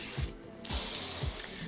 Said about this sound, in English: Gonna take some hairspray and just spray the hair.